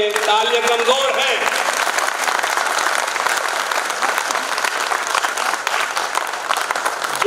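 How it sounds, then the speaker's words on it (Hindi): An audience at a Hindi kavi sammelan poetry recital breaks into loud, sustained applause, dense clapping filling the hall after a voice briefly speaks at the start. "तालियां कमजोर है"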